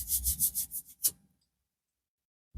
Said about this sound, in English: If I just rub my finger along it, you can see again, it just takes all that off and it will go nice and shiny.